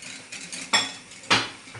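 Pudding being stirred in a pot of boiling milk, with two distinct utensil scrapes against the pot standing out over softer, intermittent stirring noise; no talking.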